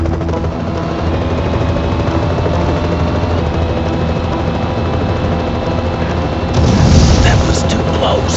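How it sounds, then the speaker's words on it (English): An armed helicopter in the Knight Rider 2 video game, a loud steady rotor drone with mechanical whine, joined near the end by a burst of gunfire and booms. "Michael, that helicopter is heavily armed."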